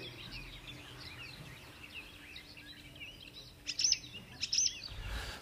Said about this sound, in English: Hellsinki Airport lavatories play birdsong